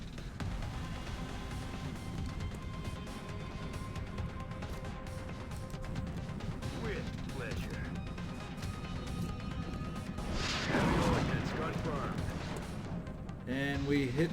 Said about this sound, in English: I think we're still going to continue with the original plan right here with the shredder rocket